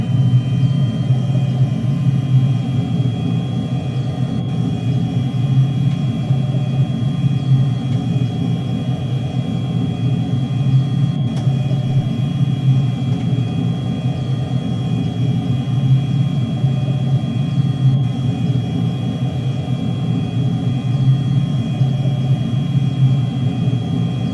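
The de Havilland Ghost jet engine of a DH.112 Venom in Microsoft Flight Simulator holds a steady, heavy rumble with a constant whine layered on top, unbroken throughout.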